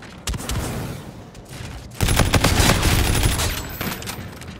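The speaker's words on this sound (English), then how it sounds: "He just threw a grenade on accident or what?" Rapid video-game gunfire bursts crackle through a firefight, then a grenade blast erupts midway into a louder, sustained barrage of shots and booms.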